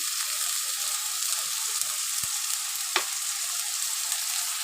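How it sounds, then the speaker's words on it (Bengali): Sour yogurt goes into a pan of sizzling cumin, coriander and Kashmiri chili, a bright constant close frying hiss with a couple of brief knocks from the pan or spoon. "এবার এখানে টক দইটা দিয়ে দিচ্ছি"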